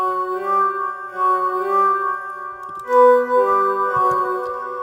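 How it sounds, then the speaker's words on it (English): A sustained lead synth tone from a song production holds steady, bright, harmonically rich notes that shift pitch partway through, with nothing else under it. "I think really is one of the leading synths and tones for the song"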